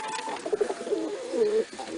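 A pigeon coos softly in a loft, a few low rolling warbled notes close by, with a faint hiss of background room noise and no talking.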